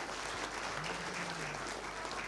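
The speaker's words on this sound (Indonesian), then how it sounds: "tepuk tangan ini boleh ya" Audience applause at a Ramadan TV event at Indosat in Bandung, a faint, distant wash of clapping under a low hum, steady and unbroken.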